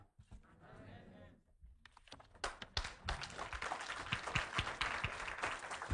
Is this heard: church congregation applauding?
yes